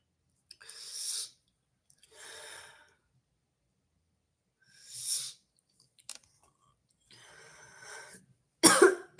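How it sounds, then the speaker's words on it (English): Several separate bouts of coughing, close and fairly loud, spaced apart with silence between them, ending in a sharper, harsher cough. "Just got my coughs back."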